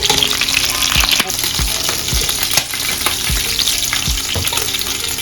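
Vegetables sauté in a hot pan with a loud, steady close sizzle, punctuated by a series of dull spoon knocks against the pan roughly every half second.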